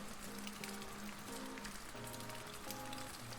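A rain sound effect plays as a steady, quiet patter with faint soft tones beneath it during a livestream, with no talking.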